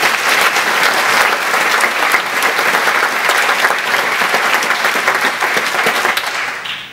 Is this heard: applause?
yes